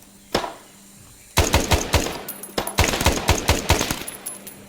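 A single shot rings out, then rapid bursts of automatic gunfire rattle in quick succession, loud and close with sharp echoing cracks, in the video game Arma 3 S.O.G. Prairie Fire.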